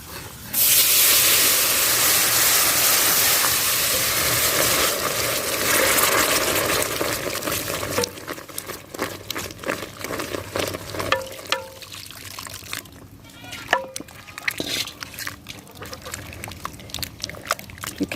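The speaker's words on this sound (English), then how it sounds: "Then I'll go ahead and pour in the milk little by little." Milk is poured little by little into a hot pan of cooked flour for white sauce, giving a loud hissing sizzle that settles into a softer trickle and scattered stirring clinks.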